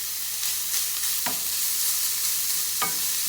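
Ground pork for empanada filling sizzles in a hot pan, a steady close hiss broken by a few sharp scrapes of a spatula stirring, with no voices.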